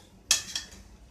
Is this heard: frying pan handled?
yes